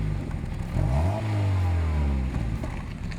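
A 2009 Mazda Miata MX-5 engine with a modified intake manifold for a deeper tone revs up and holds a steady, loud drone for a few seconds before easing off, close by with no talk.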